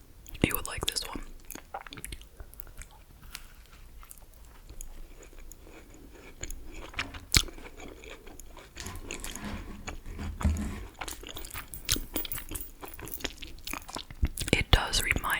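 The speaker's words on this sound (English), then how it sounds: "If you like a lot of something, like a lot of something crunchy around the outside, like almost like a crust, you would like this one." Crunchy Dunkin cake donut being bitten and chewed close up, with repeated crisp bites and wet chewing sounds throughout, under soft whispered talk.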